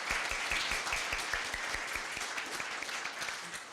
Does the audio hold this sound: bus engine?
no